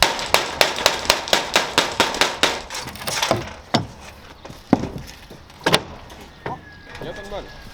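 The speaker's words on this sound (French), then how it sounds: "C'est réussir à péter ça avec un marteau." Hammer striking a roof slab during a roof renovation: a quick run of sharp, loud, evenly spaced blows, then slower, scattered hits with cracking, while a person talks between strikes.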